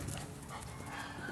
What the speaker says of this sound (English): Yes, a very nice, very affectionate dog.